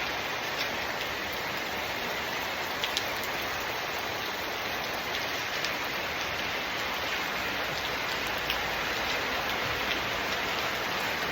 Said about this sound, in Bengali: এখন খুব বৃষ্টি, জোরে জোরে বৃষ্টি হইতেছে